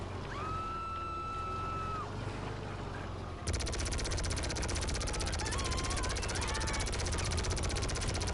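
Gunfire in the video game GTA, a dense rapid burst of shots that kicks in midway and continues steadily and loud to the end, over game ambience.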